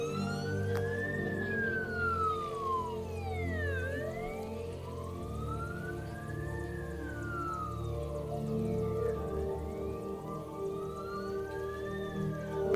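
A Malaysian fire engine's siren wails in slow rising and falling sweeps over a rumbling engine during a fire and rescue demonstration, loud and steady throughout.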